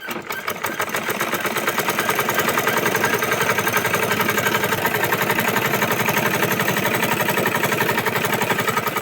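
A sewing machine runs steadily, top-stitching over gathered fabric, with a fast, even rhythmic clatter that starts after a brief pause and continues loudly and close for the rest of the clip.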